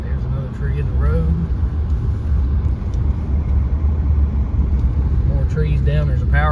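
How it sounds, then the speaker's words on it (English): A pickup truck in 4-wheel drive on an icy, storm-damaged road with fallen trees, its engine a steady close rumble with tire and road noise throughout, while someone talks over it. "I'm gonna put my truck in 4-wheel drive because I'm getting ready to come up on a pretty good sized hill"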